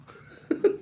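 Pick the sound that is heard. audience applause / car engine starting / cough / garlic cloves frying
cough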